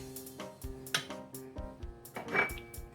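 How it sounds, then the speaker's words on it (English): Cabbage is stirred in a metal cooking pot, the spoon scraping and clinking against the sides in irregular, fairly close knocks that repeat throughout. "I'm about to give my cabbage a stir for the first time"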